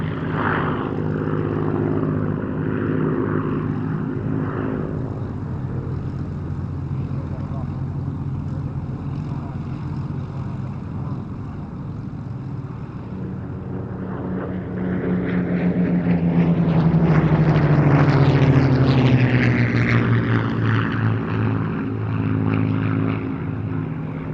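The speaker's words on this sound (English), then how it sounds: "The Hurricane in the colours of the Czech night intruder ace Karol Kutlwasser, and the Spitfire 5B in the markings of the personal aircraft of the Polish ace Jan Zumbach" A Hawker Hurricane and a Spitfire Vb fly past at a Battle of Britain airshow at Duxford, their piston propeller engines droning steadily and swelling into a louder, rising roar as they pass overhead.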